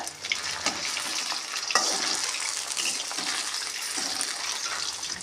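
Chicken 65 pieces fry in oil in a pan over a medium flame, producing a continuous close crackling sizzle that swells briefly as the pieces are turned, with no voices.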